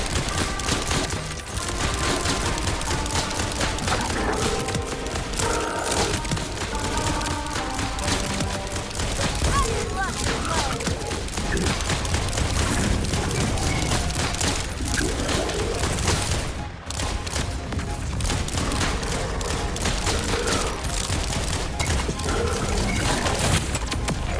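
Rapid gunfire from a Jakobs legendary pistol in Borderlands 4, a dense continuous fusillade of loud shots packed over the whole stretch with one brief break, set against busy game noise.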